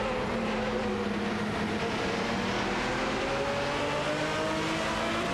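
Several race cars in an AI-driven racing game, overtaking in a tight pack: overlapping engine whines rise and fall continuously at moderate distance, with no voices.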